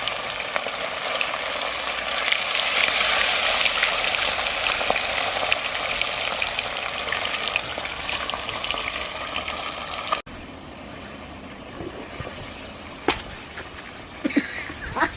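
Parrot fish frying in a pan at an outdoor cookout in England, with a steady loud sizzle and crackle throughout that drops to a quieter spit and pop near the end, with occasional clinks.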